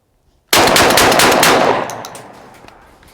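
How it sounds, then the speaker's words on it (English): A Winchester shotgun fired as fast as possible, five rounds blurring into one loud, continuous burst of close gunfire that lasts about a second before ringing off into a decaying echo. "this was the Winchester. Let's see how fast I can shoot him."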